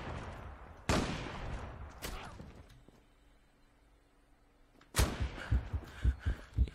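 Gunfire in the online shooter Zula, with a few sharp single shots and then a rapid burst of close, punchy reports after a quieter stretch.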